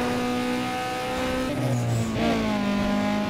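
A tuned car in the video game Need for Speed Underground 2 accelerates with a steady, loud engine drone that climbs in pitch, shifting gears partway through, with no voices over it.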